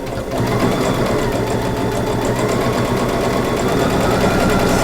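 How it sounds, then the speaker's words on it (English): A sewing machine top stitches a Santa gift bag with a 2.5 stitch length, just under a quarter-inch seam, running steadily and loudly close by for the whole stretch with no pauses. "I'm just top stitching."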